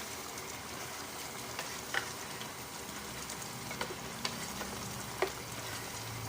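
Sweet pork simmering in a pan on the stove, a steady soft bubbling sizzle with a few faint clicks and ticks, heard close and alone.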